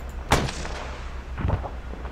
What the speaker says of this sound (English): You just use the tow missile on a building?